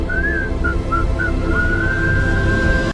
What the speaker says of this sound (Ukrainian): Насвистуй і працюй.